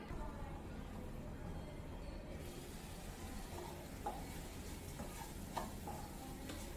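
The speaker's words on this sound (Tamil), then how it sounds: "மூடி எடுத்துட்டு அப்பப்போ இந்த மாதிரி கிளறி விட்டுக்கோங்க" Bitter gourd stir-fry sizzles softly in a pan, with several sharp clinks and scrapes as it is stirred over a quiet, steady frying hiss.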